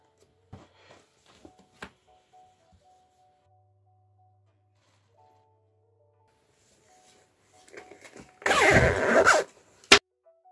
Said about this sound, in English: I'm going to put a zipper as the closure